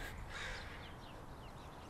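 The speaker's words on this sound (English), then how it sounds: "They're cawing everywhere." Crows caw outdoors in a residential street, several harsh calls repeating at a distance over quiet background noise.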